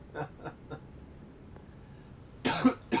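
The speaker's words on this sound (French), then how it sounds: "Excusez-moi pour la toux." Three short, soft coughs in a row, then a louder burst of coughing and throat clearing close by, from the video game Forspoken.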